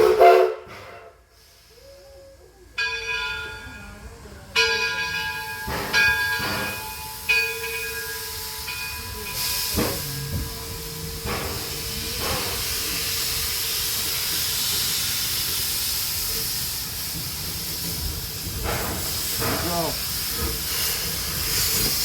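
Greenfield Village Railroad steam train under way, a steady hiss and rolling rumble with intermittent clanks and bursts, fairly loud and continuous throughout, no talk.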